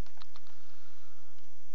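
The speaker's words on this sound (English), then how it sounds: "we can press N on our keyboard" A few quick clicks of the N key pressed on a computer keyboard, two sharp taps near the start and a lighter one later over a faint background hiss.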